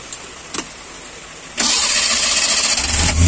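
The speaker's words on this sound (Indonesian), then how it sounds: "Kita coba lagi starter lagi sahabat" A CNG-converted car's starter cranks in two short bursts, then the engine catches and settles into a steady close idle that deepens slightly near the end, with no talking.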